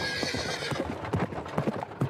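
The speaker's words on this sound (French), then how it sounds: "les chevaux relevaient brusquement la tête et reniflaient" Horse-drawn carriage sound effect for an audiobook: clopping hooves in a steady rhythm with a horse's whinny at the start, close and fairly loud with no talk.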